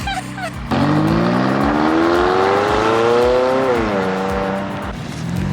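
A supercar accelerates hard, its loud engine note climbing steadily in pitch close by, briefly dipping at a gear change, then pulling on again.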